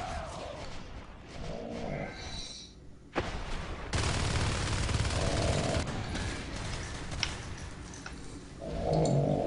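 Rapid gunfire rattles in a strategy video game during a tournament semifinal match, with sustained bursts and booms as units shoot down a hive, loud and dense across the whole stretch.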